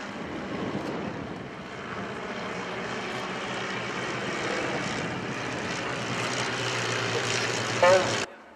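A vintage propeller aircraft flies overhead at an airshow, giving a steady, fairly loud engine drone that holds throughout and cuts off at the end.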